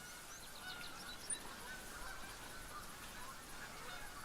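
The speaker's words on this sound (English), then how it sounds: "there's so many geese on this map" A flock of geese honks steadily on a farming video game map, Hirschfelden, the calls blending into a dense, continuous chorus that holds even throughout with one brief sharper note.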